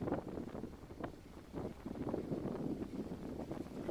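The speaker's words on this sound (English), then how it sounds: "it's extremely windy this round, especially this back nine because it's pretty open" Strong, gusty wind on an open disc golf course, buffeting the microphone in uneven rumbling surges that rise and fall across the whole stretch.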